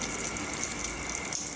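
Water from a shower runs steadily in a broad, even hiss, close and continuous, with a slight drop in level near the end.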